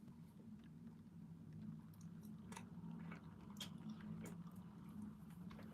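Someone chews very chewy food close to the mic, with quiet, irregular wet squishes and soft bites over a low steady hum.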